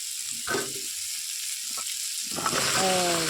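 Vegetables dropped into a hot frying pan bring a constant hiss of sizzling oil, punctuated by a couple of short clattering bursts as pieces land, and a brief tonal sound near the end.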